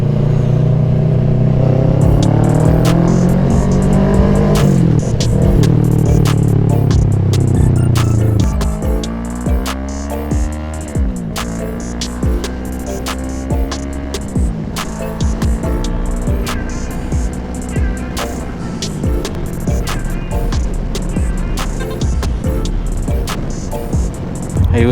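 A car engine runs while driving, its pitch rising and falling through several gear shifts against a clicking, rattling background.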